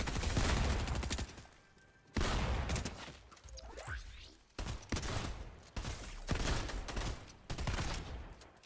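Rapid bursts of gunfire aimed at an enemy player in the video game Fortnite, loud sustained volleys broken by short pauses, with a faint whoosh in the middle and people talking briefly underneath.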